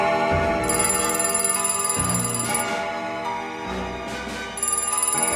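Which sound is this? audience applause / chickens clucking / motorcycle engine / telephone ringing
telephone ringing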